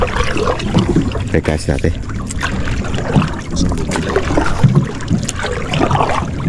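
A flowing river current rushing and splashing close by, continuous and fairly loud, with people talking over it throughout.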